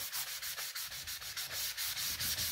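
Sanding block rubbed over a corner of black-painted wood on a small craft sign, giving a steady run of rough, rhythmic scraping strokes, close and continuous with no talking.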